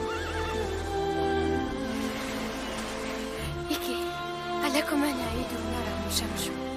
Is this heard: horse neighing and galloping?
yes